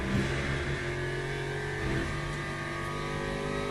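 An Aston Martin racing car engine in the video game Le Mans Ultimate drones at a high, steady pitch with slight rises in revs, continuous and close, no voices.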